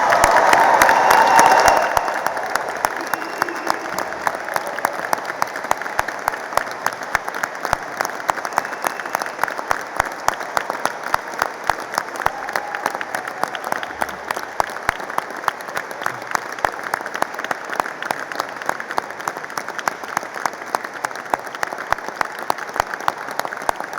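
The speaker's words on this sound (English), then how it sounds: "what I want to hear is a really thunderous applause for the success of our graduates" A degree ceremony audience gives the graduates thunderous, sustained applause, dense clapping that fills the hall evenly from start to finish after a brief louder swell at the opening.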